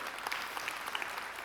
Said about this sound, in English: Can we clap for them?